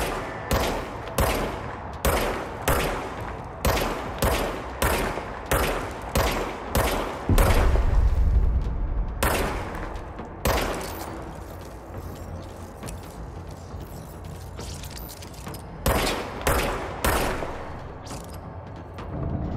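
Repeated gunfire from the video game Control: sharp, evenly spaced shots in quick bursts, with heavy low booms and mechanical clatter between volleys, loud and close.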